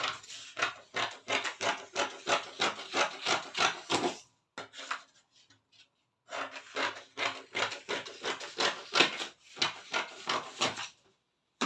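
Fabric for a maxi yoke gown being cut with scissors, a close run of rhythmic snipping strokes in two long bursts separated by a short pause, with no talking.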